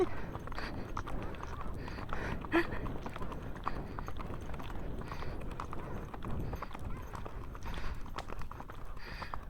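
Pony hooves trotting on a trail, a continuous rhythmic clip-clop of steady footfalls under outdoor ambience, fairly close.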